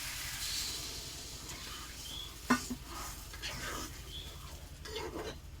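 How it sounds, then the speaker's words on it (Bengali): A spoon stirs spicy curry with coriander leaves in a pan, scraping and sizzling steadily at close range with one sharper knock midway. "ধনে পাতার উপরে দিয়ে দিয়ে একটু নাড়াচাড়া করবো"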